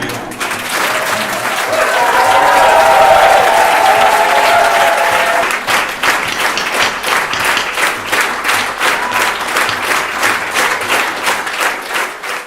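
Loud applause from a large crowd, steady and dense, swelling then settling into rhythmic clapping for several seconds.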